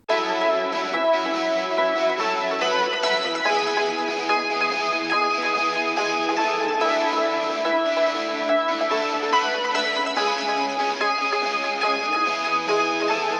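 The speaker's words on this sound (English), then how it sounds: "add some distorted, true, real electric guitar" A dense wall of distorted electric guitar plays over other layered guitars, sustained and thick throughout, with echoing effects and little low end.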